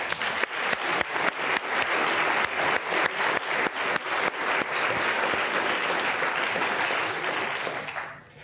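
Audience at a memorial lecture applauding to welcome guests: sustained, even clapping from a full room that holds steady for several seconds before gradually thinning out and fading at the end.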